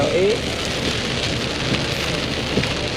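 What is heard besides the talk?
heavy rain at Gin Springs, Florida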